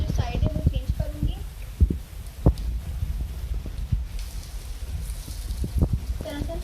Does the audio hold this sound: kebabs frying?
yes